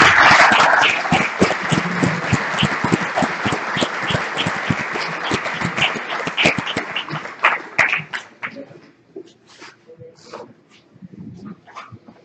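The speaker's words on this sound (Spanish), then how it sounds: "recibimos con un fuerte aplauso al doctor Millán" A conference audience gives a speaker a welcoming round of applause, dense sustained clapping that thins out into scattered claps and fades, with a dog barking at points.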